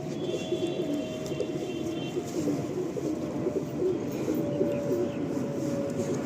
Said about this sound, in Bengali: এটা নর পায়রা, ছোট্ট দুমের মধ্যে